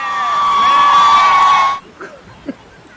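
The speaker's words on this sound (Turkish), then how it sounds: "Kuzuların sesine geldim." A lamb's sustained, steady bleat holds for nearly two seconds, then cuts off, followed by a couple of faint short calls.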